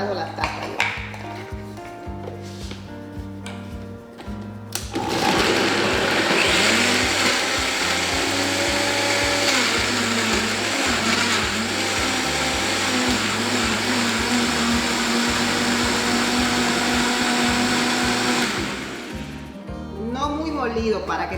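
A blender loudly grinds spicy Mexican-style salsa for about thirteen seconds, a steady whirring roar that starts abruptly and cuts off, with talk and kitchen handling before and after.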